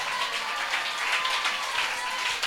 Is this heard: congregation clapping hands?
yes